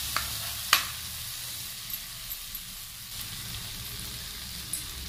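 Ginger garlic paste and green chillies fry in a pan with a steady sizzle and hiss, punctuated by a few soft clicks of stirring, with no talking.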